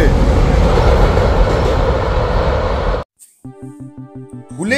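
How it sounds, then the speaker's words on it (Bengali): Two trains run alongside each other, a loud, steady rumble and rattle for about three seconds that cuts off abruptly, followed by a short run of rhythmic tonal notes. "এসিনটা কিন্তু দারুণ, দুটো ট্রেন একসাথে চলেছে।"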